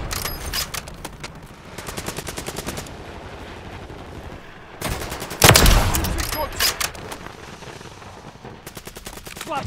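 Rapid automatic gunfire from the video game Call of Duty MW3, loud bursts of repeated shots with brief pauses between them and one heavy boom near the middle.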